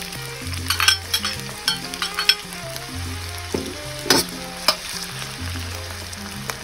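Chopped onion frying in a Saladmaster wok with no added fat, a steady sizzle broken by scraping stirs and sharp utensil clicks against the metal, close and clear with no talking.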